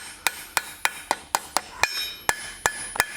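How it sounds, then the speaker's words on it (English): A flat-face hammer strikes hot metal bookend pieces on an anvil, finishing their edges. The blows are close and sharp, about ten ringing, metallic hits in a steady rhythm. "So back with the flat-face hammer and finishing off the edges"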